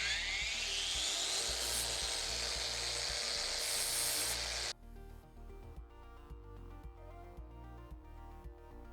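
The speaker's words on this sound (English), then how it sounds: "A bench grinder would be ideal for this, but I'm going to use an angle grinder." An angle grinder cuts into metal with a high, rising whine that runs steadily for about five seconds and then stops, leaving only faint, quieter sounds behind.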